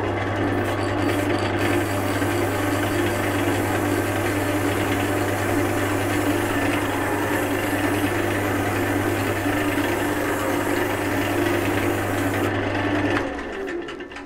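A wood lathe runs continuously while lacquer is applied to the spinning workpiece, a steady motor hum with an even whirring drone that stops abruptly near the end.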